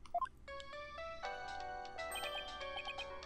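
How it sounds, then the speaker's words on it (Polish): Telephone ringing in the video game Phoenix Wright: Dual Destinies, a soft electronic ringtone of steady sustained tones stepping through a short melody, quiet and alone with no talk. "Telefon?"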